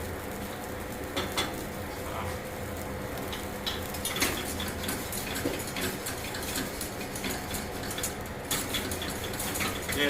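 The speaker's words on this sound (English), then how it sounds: "Yeah, definitely use a whisk." A whisk scrapes and clinks against a pot of sauce coming to a boil, with irregular metallic taps and rattles over a soft, steady bubbling background.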